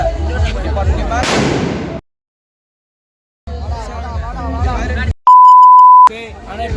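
People talk loudly and playfully at a college symposium, then the sound cuts to silence, and after more chatter a single sustained, steady censor beep tone sounds for about a second.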